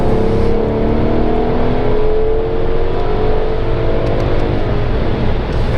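Mercedes S63 AMG 4-matic W222 with 585 HP pulling hard in second gear toward a 6,000 rpm limiter, a loud, close, steady engine roar with rising whine, held without talk.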